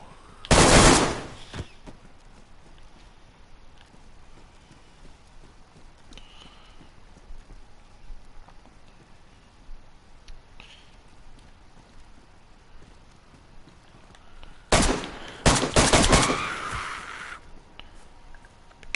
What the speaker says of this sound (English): Guns sound great, don't they, DayZ?